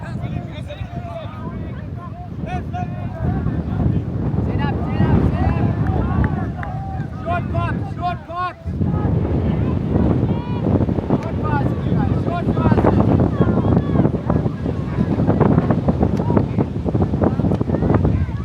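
Strong wind buffets the microphone at an outdoor ultimate frisbee field in Cape Town after dark, a loud, steady rumbling roar that continues under a commentator's ongoing talk.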